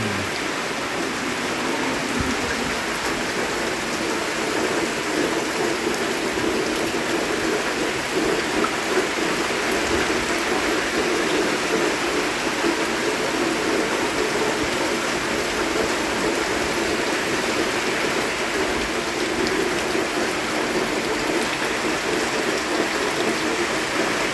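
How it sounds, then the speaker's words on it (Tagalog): Heavy, continuous afternoon rain pours steadily in the Philippines, a dense, unbroken hiss of downpour on surfaces with no letup throughout and no voices. "Hapon, maulan."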